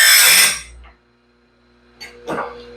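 A grinding stone sharpens the teeth of a sawmill band blade, a short harsh rasping burst up close, followed by quiet and two brief scraping touches.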